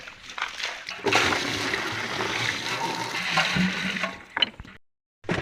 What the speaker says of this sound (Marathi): आता मी धुणार आहे हांडे पहिले बरोबर पाणी येऊ देतो